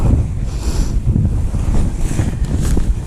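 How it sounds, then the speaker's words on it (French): Strong wind buffeting the microphone, a loud continuous low rumble with gusts, outdoors near open water in Finnish Lapland in autumn. "Un petit peu de vent."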